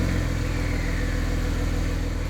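A Porsche engine and exhaust running loud and steady with a deep pulsing low drone, close-up and alone with no voices.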